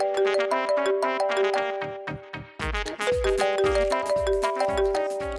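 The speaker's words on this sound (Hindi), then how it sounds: "अभी फोन करती हूँ मैं महमूद भाई को।" A phone rings with a repeating melodic electronic tone, bright plucked notes in a steady pattern, loud and alone with no talk.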